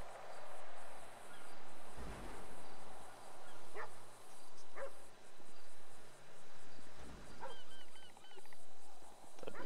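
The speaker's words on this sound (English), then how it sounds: "Do I hear a dog? Don't tell me they have a canine unit." A dog barks several times in the distance inside a GTA role-play game, short sharp yelps spaced across a steady ambient bed of chirping insects and low game background noise.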